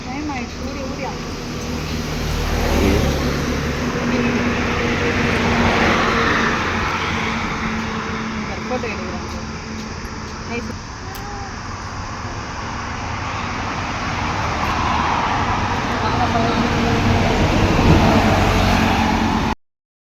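A vehicle drives along a road on the way to a Murugan temple in Mayilam, a steady engine and road rumble with wind noise that stays loud throughout and cuts off abruptly at the end.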